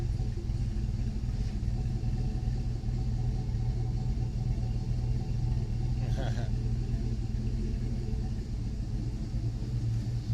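A 2009 Jeep Liberty KK with a swapped LS V8 is driving, its steady low engine and road rumble running throughout at a constant level, with no clear revving or gear changes and one brief higher noise midway.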